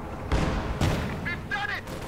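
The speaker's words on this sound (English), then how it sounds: "Enemy Panzer firing on us!" A Panzer tank firing in Company of Heroes 2: two heavy cannon booms about half a second apart, close and loud, followed by short radio-style voice callouts.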